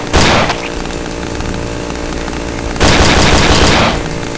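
Video game gunfire in the horror game Cry of Fear: a loud burst of rapid shots at the start, a steady rumbling din, then a second sustained burst a few seconds later.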